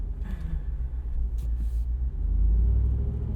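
A 2021 Jeep Wrangler Rubicon 392 V8 gives a deep, close engine rumble from inside the cabin, swelling louder and heavier toward the end as the revs build.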